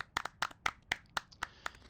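Scattered applause from a keynote audience at a meetup, about eight sharp claps spaced irregularly over two seconds, fairly faint and thin, as from a few people clapping rather than a full crowd.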